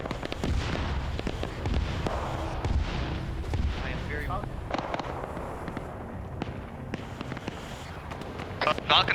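Sustained heavy gunfire from a magazine dump in a Vietnam-era military video game, dense overlapping shots and blasts continuing throughout with a voice speaking over the top.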